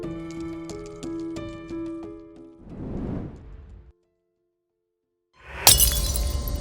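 Music plays, then a noisy crash and a short silence, before a loud, bright burst of a glass vase shattering with scattering fragments.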